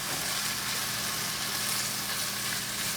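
Omelet with potato and Mexican cheese frying in a pan, a steady, even hiss and crackle of sizzling oil close up, continuous with no talk.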